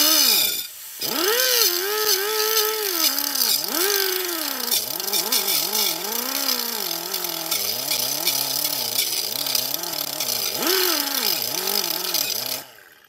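A power tool scrapes layers of rust off the rear brake hub of a Ford Taurus. It makes a loud, steady whine that swoops up and down in pitch as it drags across the metal, running almost nonstop and then cutting off at the end.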